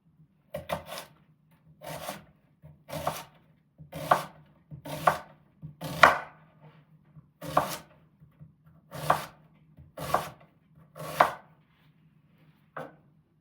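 Knife chopping half an onion on a board, about a dozen slow, evenly spaced cuts with short crisp knocks and faint rasps, close and quiet with no talk.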